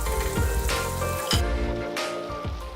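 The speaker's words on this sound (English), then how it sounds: "you are going to add the tuna to it. Listen to it sizzle." Tuna sisig hits melted butter on a hot sizzling platter and sends up a loud, steady, crackling sizzle. A few clinks and scrapes break through it.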